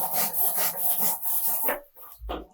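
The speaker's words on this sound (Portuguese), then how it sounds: "Venho com o gabarito, com o serrote. Corto ela novamente" A hand saw cuts through wooden curtain-box molding in steady back-and-forth strokes, close and fairly loud, with the strokes slowing and breaking into a few short final rasps as the cut finishes.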